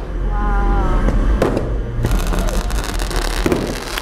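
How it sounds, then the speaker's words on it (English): Daytime fireworks at Disney's Castaway Cay island pop and crackle in several sharp bursts over a steady, loud outdoor background. "I wanna see some fireworks during the day."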